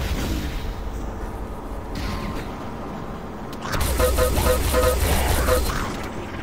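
A tunnel blown up in the online shooter Enemy Territory: Quake Wars on the Steedium Mines map, a sudden deep rumbling blast that swells and lingers with mechanical clatter over steady background game noise.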